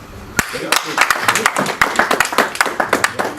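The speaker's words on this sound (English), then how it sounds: "Round of applause." Scattered, sharp hand claps from an audience at the 12th Annual Kenya Diaspora Homecoming Convention in 2025, rising into a loose round of applause over a few seconds, with speech running underneath.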